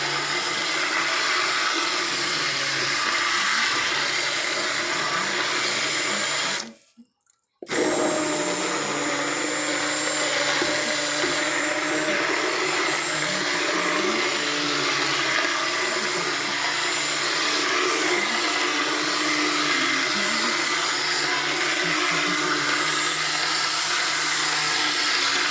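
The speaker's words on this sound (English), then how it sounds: "We're blending everything together." An immersion blender whirring steadily through pozole, a loud continuous motor drone that cuts out briefly and then starts again, running alone with no talking.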